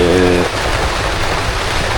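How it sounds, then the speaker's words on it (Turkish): Steady rain falls over a solo campsite near İznik, a dense, constant hiss filling the whole stretch, with a brief low voice-like hum at the very start. "Yağmur ne zaman kesilir?"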